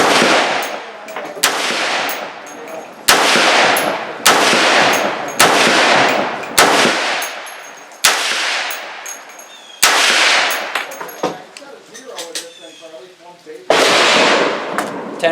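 A Bear Creek Arsenal 350 Legend rifle fires a string of about ten loud, sharp shots outdoors, spaced roughly a second or more apart. Each crack trails off into a short ringing echo.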